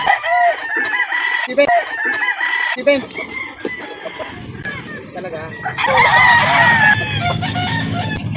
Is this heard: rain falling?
no